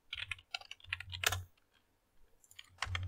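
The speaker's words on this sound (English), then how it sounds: "let's go ahead and type out that system.txt" Fingers typing on a computer keyboard, bursts of close, crisp key clicks with a short pause before a final flurry of taps.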